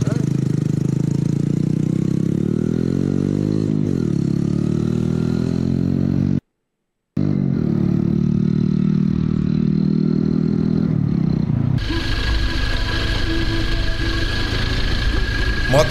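A motorcycle engine runs steadily and loudly at idle with a rough mechanical rumble, briefly cutting out, then a harsher revving clatter takes over.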